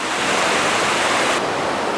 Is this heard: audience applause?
no